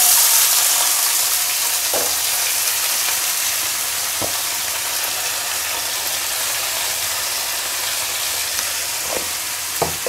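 Vegetables sizzle and fry steadily in a hot pan after a black cumin seed tempering, a continuous close crackling hiss with a few faint clinks of stirring.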